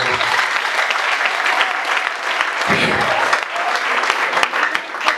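A church congregation at a gathering in Bugesera breaks into loud, sustained applause, a dense wash of many hands clapping close by, with a voice briefly heard through it.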